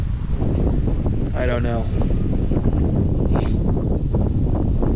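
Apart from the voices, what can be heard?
wind blowing outdoors on a cold day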